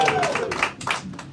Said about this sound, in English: Gives a cheer if it goes to Ben Sisko.